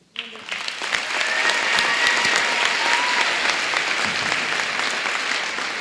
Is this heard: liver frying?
no